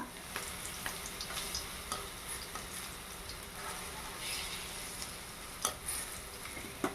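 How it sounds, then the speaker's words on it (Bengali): Jackfruit koftas fry in oil while being turned, making a soft, even sizzle with occasional small clicks and pops throughout. "কিছুক্ষণ ধরে ঘুরিয়ে ফিরিয়ে এটা ভেজে নিতে হবে"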